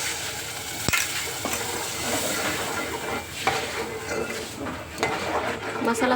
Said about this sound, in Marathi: मसाला थोडासा पाण्यामध्ये असा गदगदू द्यायचा